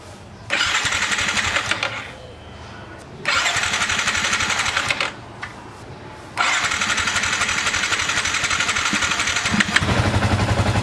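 A Honda Sniper 150 motorcycle engine, just serviced with a cleaned throttle body, intake manifold and fuel injector, is cranked and catches several times, each start settling into a loud, steady close-up idle before cutting out, then running on to the end.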